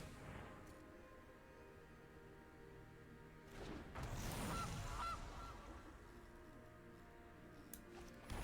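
A goose honk sound effect plays for a goose card in a Magic digital card game, a brief faint honk in the middle over quiet game ambience, with no voices.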